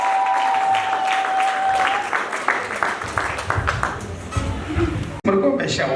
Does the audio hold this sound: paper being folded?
no